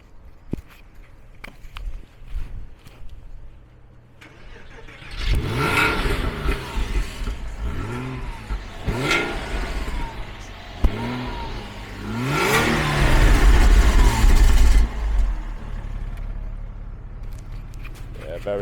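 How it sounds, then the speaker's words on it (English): A 2002 Porsche Boxster S with a 3.2 flat-six and 81,000 on the clock cranks, fires up and revs in several rising-and-falling blips, loud and close, with someone speaking briefly around it. "Very nice, the traditional flat 6 Boxster sound there"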